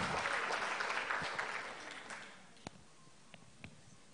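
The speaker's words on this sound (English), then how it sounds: "Give a big round of applause." Applause from a conference audience starts moderately loud and thins out, fading to a few scattered, isolated claps by the end.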